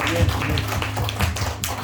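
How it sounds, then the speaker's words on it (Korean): A church congregation claps together during a Thanksgiving worship service, producing a dense, even patter of hands over a low room hum. "우리 하나님께 영광의 박수 드리겠습니다."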